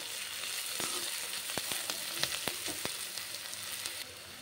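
Onions fry with salt in a pan, a soft, even sizzle broken by a few sharp crackles and spatula taps, quiet and close.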